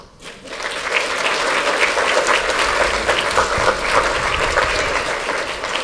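Sustained audience applause at a Family Promise of Lincoln County anniversary celebration, a dense steady clatter of many clapping hands that swells in quickly and holds loud and even throughout.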